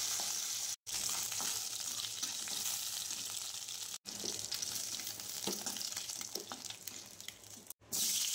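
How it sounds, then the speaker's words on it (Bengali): Kakila fish frying in oil in a home kitchen: a steady, dense sizzle and crackle running throughout without talk, briefly cut by short silent gaps. "এইভাবে কাকলা মাছগুলো ভেজে নেবেন।"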